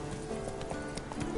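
Roach the horse gallops in The Witcher 3, hooves clip-clopping in a quick, quiet rhythm over a faint background.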